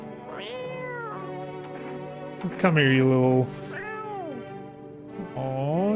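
A small cat meows repeatedly in the video game No, I'm Not a Human, with drawn-out, rising and falling cries near the listener, one louder and longer. A person talks over and between the meows.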